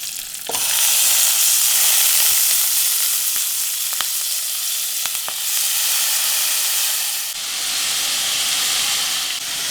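Soaked, drained rice fries in hot ghee with a loud, continuous close-up sizzle and hiss, broken by a few light clicks of stirring.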